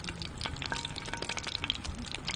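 Small smelt fish coated in egg batter frying in hot oil at a snowy winter camp on the frozen Bukhan River in Hwacheon, a quiet steady crackle and sizzle with scattered pops, close and alone.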